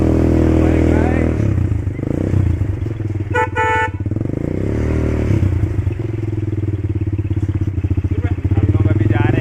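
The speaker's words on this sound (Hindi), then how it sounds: "bike ride" A motorcycle rumbles steadily close by as riders set off toward the Tiger Point waterfall in Chhattisgarh, with a brief burst of horn honks partway through and people talking over the engine drone.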